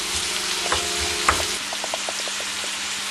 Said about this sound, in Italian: la salsiccia si sta cuocendo